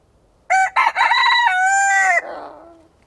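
A rooster crows once nearby, a loud drawn-out cock-a-doodle-doo lasting under two seconds that falls off into a fading tail, with nothing else audible.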